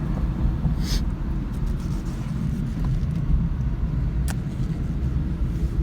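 A 2016 Chevy Cruze with the 1.4 engine, damaged at the rear corner, driving on the road. It gives a steady low cabin rumble of engine and tyres with a few faint clicks and rattles and no voices.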